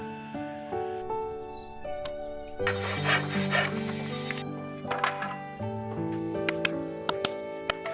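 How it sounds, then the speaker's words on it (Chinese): Small wooden boards for a dog house being sawn, rasping strokes in a burst over steady tonal background music, with a few sharp knocks near the end. "下好木料开始弹线，锯掉不要的部分"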